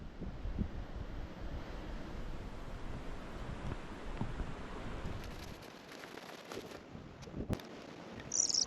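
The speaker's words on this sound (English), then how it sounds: "it's so windy out here" Strong coastal wind on Tasmania's Three Capes Track rushes and buffets the microphone in a steady, rough roar that eases slightly toward the end.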